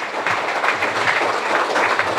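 An audience at a ceremony honouring a new Agniveer recruit to the Indian Army gives steady, loud applause, many hands clapping together in a dense, continuous wash.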